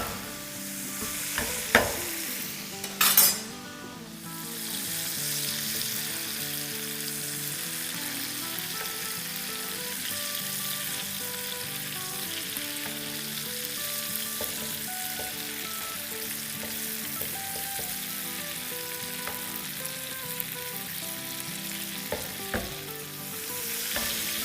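Qureshi kababs fry in butter in a pan on the stove, giving a steady, close sizzle that holds throughout, with a couple of brief clanks early on as they are moved.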